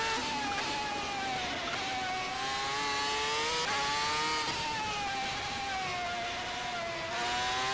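A 1995 Ferrari Formula One car screams around the Nordschleife, its high-revving engine holding a loud, close wail with brief throttle lifts and blips as the pitch dips and climbs again.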